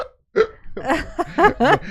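A person imitates hiccups with a voice, giving several short, sharp hiccup-like vocal bursts in quick succession after a brief silence.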